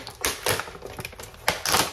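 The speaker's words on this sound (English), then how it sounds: "I just open them along the bottom like all the other ones" Cardboard and plastic packaging of a McFarlane Simpsons action figure being torn open along the bottom, a few quick close ripping and crinkling bursts with no talk.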